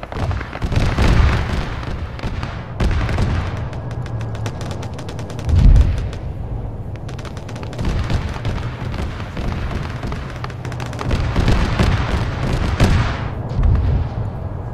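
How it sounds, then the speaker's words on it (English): Artillery bombardment in Arma 3, a sustained barrage of booms and rattling gunfire over several seconds, with heavier thuds swelling in places over a continuous rumbling battlefield background. "bombardment is happening over towards the position"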